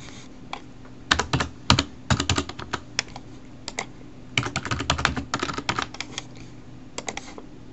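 Quick clicking keystrokes on a computer keyboard as a login is entered, coming in fast bursts separated by short gaps, near and soft, with no voices.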